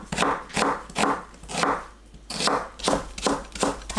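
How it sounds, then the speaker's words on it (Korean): A knife slices an onion into thin strips on a cutting board during home cooking prep for a pork-belly rice bowl, with about eight steady, evenly spaced chops close up and no talking. "양파를 얇게 채 썰어주세요"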